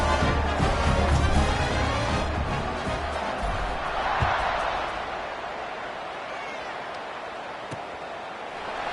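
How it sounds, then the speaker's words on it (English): A college football stadium crowd at a Boise State at Wyoming game, buzzing after a touchdown. The loud, continuous roar swells early, then settles into a steady murmur. "this crowd is buzzing after that last score"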